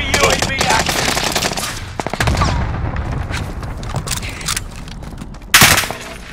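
Rapid automatic gunfire in Call of Duty: Modern Warfare, dense bursts of shots rattling almost without pause, broken by a couple of heavier booms and a loud blast near the end.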